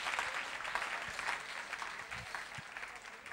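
A church congregation claps loudly during a French-language sermon, dense sustained applause filling the space with a few scattered voices underneath.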